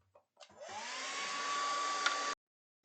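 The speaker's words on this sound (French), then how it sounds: "Maintenant, un petit coup de sèche-cheveux." A hair dryer, used to dry parts of a Nintendo console during cleaning, switches on, whines up to speed and blows steadily for about two seconds before cutting off abruptly.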